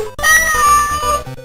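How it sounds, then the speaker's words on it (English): Digitized cat meows from a Commodore 64 video game ring out in one sustained, loud, slightly gritty meow with a bright tonal wail, heard alone. "It also features a bunch of digitized cat meows"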